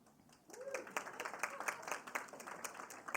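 An audience at a closing plenary breaks into scattered clapping, faint and somewhat distant, with a brief voice at the start.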